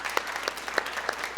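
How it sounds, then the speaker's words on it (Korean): A church congregation breaks into applause during a Christmas sermon, many hands clapping in a brisk, steady patter that fills the room for a short burst, with no voices over it. "우리 한번 박수로 영광 올려드릴까요?"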